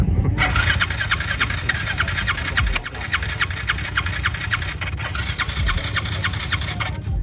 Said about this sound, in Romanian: Nu vă supărați, dar nu vă pornește Yamaha?